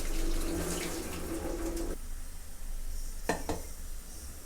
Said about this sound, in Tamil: இந்த வேக வச்ச தண்ணி வந்து நம்ம கீழே ஊற்றிடலாம்.